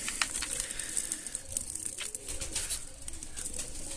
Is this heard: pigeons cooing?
yes